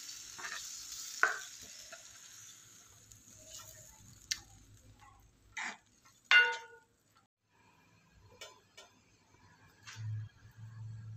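Mashed pav bhaji vegetables stirred in a pan over high heat, a soft background sizzle broken by a few scattered scrapes and clinks of the spoon against the pan, with no talk.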